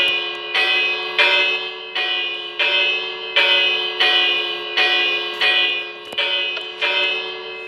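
A fire alarm bell built with redstone in a video game rings in a regular series of about eleven bright, resonant strikes, each decaying briefly before the next, with no talking over it.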